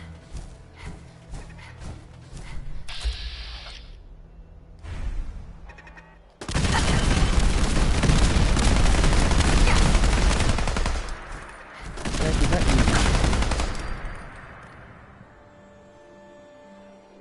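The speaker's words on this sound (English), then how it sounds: "I do believe that was using exploding bullets as well." Heavy bursts of exploding-bullet gunfire in Fallout 4, loud sustained volleys in two long stretches after quieter scattered shots, with a low hum between.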